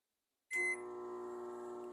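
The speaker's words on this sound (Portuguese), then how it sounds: "Ó o barulho que esse micro-ondas está fazendo." A large Brastemp microwave oven faulting and failing to heat, starting at mid-clip with a sharp beep, then a steady loud hum with strong tonal whine that continues, sounding like a big running freezer.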